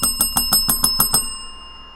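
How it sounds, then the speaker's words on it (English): A small bell is rung for a super chat during a live stream, eight quick bright dings in steady rhythm, then a ringing tail that fades to quiet. "Where's the bell?"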